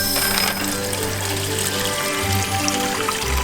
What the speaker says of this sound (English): I'm going to fill this bag with water